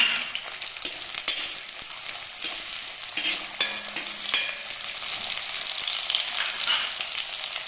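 About a dozen shallots, sliced lengthwise, fry in hot coconut oil for an eggplant dish. A bright, continuous sizzle stays close and fairly even, with a few soft stirring knocks and no speech.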